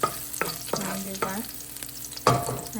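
Garlic and onion sauté in a hot pan, with a close steady sizzle broken by several sharp scraping strokes of a utensil stirring them.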